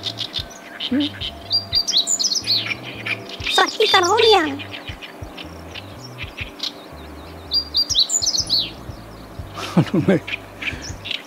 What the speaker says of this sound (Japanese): この大ヨシキリが鳴いてて